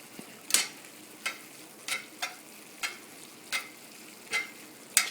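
A spoon scrapes through sizzling stove-top chili as chili powder and cumin are stirred in, making about eight crisp, evenly spaced strokes over a faint, steady fry.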